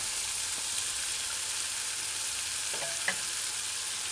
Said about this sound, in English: I didn't stir it, I just allowed them to fry.